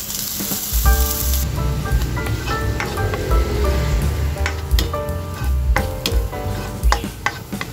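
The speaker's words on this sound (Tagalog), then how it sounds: "Ayan guys, golden brown na yung ating bawang. Kaya isunod na natin yung ating sibuyas." Sliced onion sizzles steadily in hot oil after garlic has fried golden brown, the first step of a chicken adobo. A spoon scrapes and stirs in the pan now and then, with no talking.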